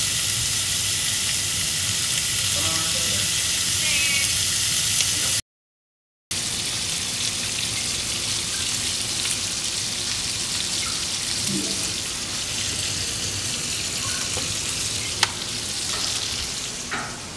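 Breakfast food sizzles in a frying pan, a dense, steady crackle and hiss heard up close, broken by a short silent gap, with occasional light clinks and stirring.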